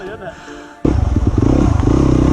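A dirt bike engine on a trail bursts in close and loud, with a rapid, pulsing throttle rumble that continues steadily after a quieter opening.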